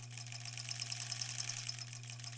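A sewing machine stitches quilt fabric strips together in a fast, even run of rapid mechanical pulses over a steady low motor hum, close and fairly quiet, with no talking.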